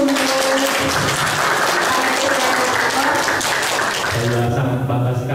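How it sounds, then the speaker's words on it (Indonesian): Applause from an audience at an Indonesian book discussion event, steady broadband clapping throughout with a voice or background sound running underneath, tapering slightly near the end. "Sebelumnya bina tepuk tangan dulu dong."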